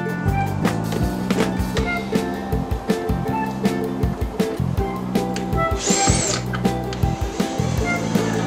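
A power drill drives a screw into a wall-mounted board for a garden tool rack, repeated short whirring bursts with brief pauses and taps, close and fairly loud.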